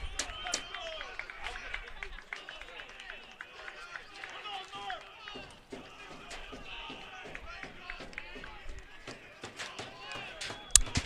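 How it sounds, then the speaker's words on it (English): Crowd noise at a college baseball game, Pace at Adelphi in the top of the ninth with a 0-2 count, carrying steady chatter, scattered claps and shouts around the ballpark, with a sharp bang near the end. "We will leave you with the sounds of the crowd here"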